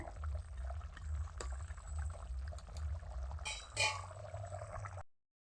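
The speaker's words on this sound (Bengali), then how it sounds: "মাছটা ঢেলে দিলাম, মাছটা একটু নেড়ে ছেড়ে বসিয়ে দেয় জলের ভিতরে।" Fish tipped into simmering water in a pan for a home-style fish curry, a short wet splash and pour standing out briefly over a low steady cooking rumble.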